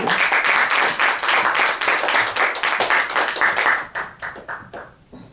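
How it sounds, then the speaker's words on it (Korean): An audience at a Buddhist lecture claps to welcome a speaker, a loud burst of many hands in quick rhythm that gradually thins and fades toward the end. "자, 우리 서정원 군 자, 모시겠습니다. 큰 박수로."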